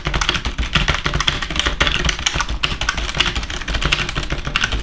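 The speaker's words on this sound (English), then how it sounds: "Typing speed test, I have 60 seconds." Fast, continuous typing on a computer keyboard during a typing speed test, with dense clattering keystrokes in a steady rapid stream, close and loud.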